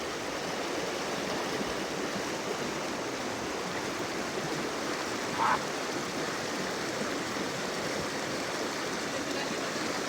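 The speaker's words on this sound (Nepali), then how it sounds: "सबैले काली खोला भन्ने गर्छन् तर खोला चाहिँ सेतै छ है" The Kali Khola river rushes steadily, a dense, even roar of flowing water with no break or voices throughout.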